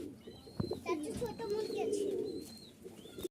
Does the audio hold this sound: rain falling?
no